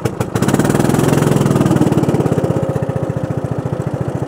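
An engine revs as the accelerator is pressed, a loud close throbbing run of fast regular pulses that slows toward a steadier idle-like chug over a few seconds, with no talking.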